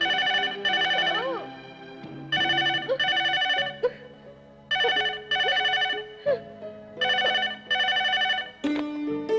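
A telephone rings in repeated melodic bursts with short pauses between, over soft background music.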